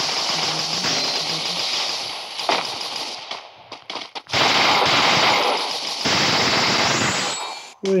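Rapid automatic gunfire in the Free Fire mobile game, long sustained bursts of shots broken by brief gaps, loud and close with no speech.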